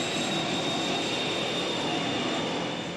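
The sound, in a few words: aircraft accelerating down runway during takeoff roll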